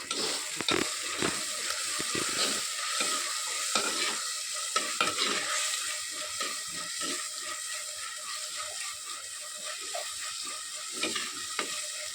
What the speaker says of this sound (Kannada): ಟೊಮೆಟೊ ಸರಿ ಫ್ರೈ ಆಗಬೇಕು